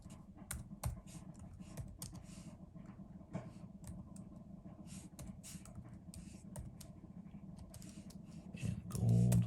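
Keys clattering on a computer keyboard in irregular bursts of clicks and taps, fairly quiet and close, with brief pauses between runs and a louder thump near the end.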